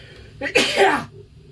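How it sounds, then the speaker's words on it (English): A single loud sneeze close by, with a sharp inhale just before the burst, then quiet. "Oh, I'm gonna sneeze."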